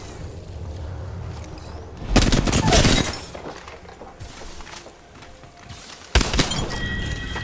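Heavy gunfire in Apex Legends: two loud bursts of rapid shots, one lasting about a second near the middle and another near the end, with quieter game sounds and crackle between them.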